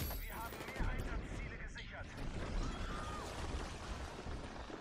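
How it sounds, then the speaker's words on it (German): A thrown grenade detonates in Battlefield 6 amid a dense, continuous wash of gunfire and battle noise, with a heavier burst standing out early; voices occasionally come through the din. "Granate geworfen!"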